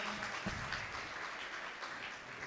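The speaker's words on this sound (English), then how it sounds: "the crowd is now applauding" A crowd at a squash tournament applauds warmly in a short, steady burst of clapping that fills the hall.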